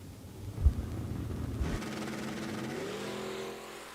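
A pickup truck launches hard off the line at Eddyville Raceway Park's drag strip during bracket racing, its engine roaring loud and close with a sharp thump at the start, then rising in pitch as it pulls away.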